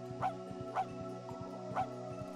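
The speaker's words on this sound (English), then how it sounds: "Can he bark? Okay, he can bark." A cartoon dog barks in The Grinch video game: three evenly spaced yipping barks over a steady tonal music bed.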